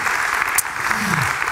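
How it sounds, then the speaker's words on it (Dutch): An audience at a panel event on tuna applauds a company director as he comes forward, a brief, loud wash of clapping with a voice faintly mixed in. "Geef hem een groot applaus."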